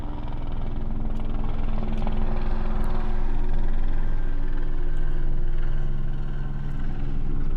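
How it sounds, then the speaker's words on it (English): Helicopter flying low overhead, a loud steady rotor thrum with a pulsing low rumble that holds throughout without a break. "Helicopter is flying over my head."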